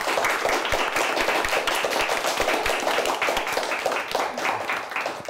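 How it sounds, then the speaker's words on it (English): An audience at a high school quiz competition applauds the winning team, a dense, continuous round of clapping from many hands, close and sustained for several seconds. "Let's give him a nice round of applause."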